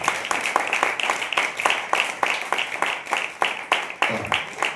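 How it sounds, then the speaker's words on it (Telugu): Audience applause for a skit at a Telugu Christian gathering: steady, dense clapping from a crowd, continuous and fairly loud with a rhythmic pulse, without any talk over it. "మీరందరూ ఇంకా మరి గట్టిగా క్లాప్స్ కొట్టాలి"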